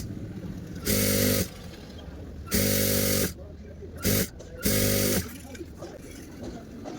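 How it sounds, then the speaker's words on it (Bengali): A sewing machine stitches a seam on a nighty in three or four loud, steady runs of whirring, with pauses and handling noise in between. "তাহলে চলুন মেশিনে চলে যায় সেলাইটি করার জন্য"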